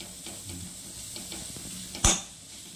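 Garden-grown mint leaves fry in a pan with a soft, low sizzle and light stirring scrapes, then a single sharp metallic knock of utensil against pan near the end.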